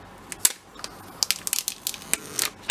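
Crisp crackling and tearing of thin plastic film being peeled off an iPhone 11 box, in quick irregular bursts close by.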